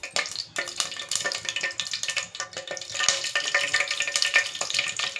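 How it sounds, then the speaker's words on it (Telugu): Mustard seeds, cumin and chana dal tempering in hot oil for a dried-prawn cucumber curry, loud close sizzling with rapid popping crackles throughout, bursts rising and falling without any voice. "ఆయిల్ కొంచెం హీట్ అయిన తర్వాత ఇప్పుడు తాలింపు వేసేద్దాం."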